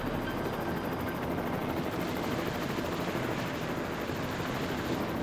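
Helicopter hovering overhead during a stretcher winch rescue in the bush, a loud steady rotor-and-engine roar filling the scene without pause.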